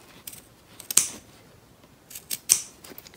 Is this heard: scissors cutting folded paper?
yes